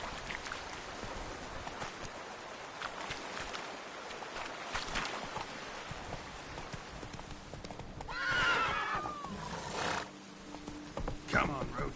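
Roach, the horse in The Witcher 3, gallops with a quick, steady clip-clop of hooves, then lets out a loud whinny partway through, over a light rushing ambience.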